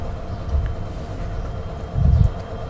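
A train rumbles along a repaired railway line after a derailment, a low, steady rolling drone with two heavier swells, heard from close by without speech.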